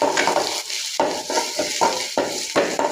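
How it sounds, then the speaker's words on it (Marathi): Finely chopped onion fries in hot oil in a kadhai, a loud close sizzle broken by repeated bursts of stirring and scraping, with no talk. "तेल छान गरम झाल्यानंतर आपल्याला त्याच्यात कांदा टाकायचा आहे, तो बारीक चिरून घेतलेला आहे."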